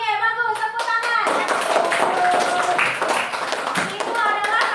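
A primary-school class claps for a pupil's correct answer: a few scattered claps build into a short burst of group clapping, with a voice and a teacher's voice over and around it.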